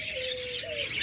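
A pet lovebird gives a couple of clear, close chirps: a sustained whistled tone followed by a short rising note, over faint background hiss.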